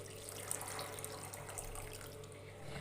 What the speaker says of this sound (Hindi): साथ ही इसमें मैं 2 कप पानी डाल दूंगी